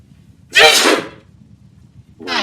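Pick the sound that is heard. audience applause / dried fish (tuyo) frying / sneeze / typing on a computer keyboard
sneeze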